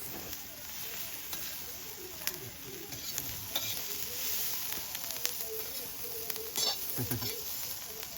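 Green chillies roasting and scorching in a pan for Kolhapuri-style chilli thecha give a steady close sizzle with scraping stir strokes and a few sharper pops.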